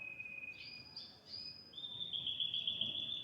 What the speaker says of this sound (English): Is that a real bird singing?